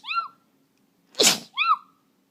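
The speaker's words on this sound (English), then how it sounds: "I'm going to have to sneeze" A person sneezes once, close and abrupt, a sharp noisy burst set between short high squeaky tones before and after.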